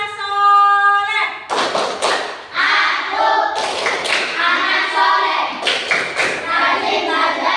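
Close, loud group clapping in a quick rhythmic pattern accompanies a chanted children's routine, with voices singing along between the claps.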